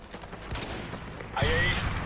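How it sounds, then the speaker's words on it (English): Strafe run gunfire from an aircraft in Modern Warfare 3 on PC, a loud burst of sustained firing and rumbling impacts that swells in the second half over ongoing game noise. "Friendly strafe run incoming."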